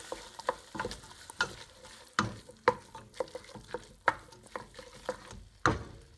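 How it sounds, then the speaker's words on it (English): Turkey bolognese stirred in a hot pan, a spoon scraping and pushing the sizzling mixture around in irregular close strokes over a steady frying crackle, no voices. "And stir that all around."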